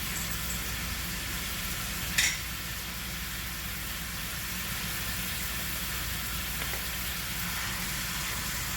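Ground beef browns in a pot with a steady, even sizzle that holds at one level throughout, broken by a single brief clink partway through.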